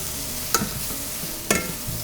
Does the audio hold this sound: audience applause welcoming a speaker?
no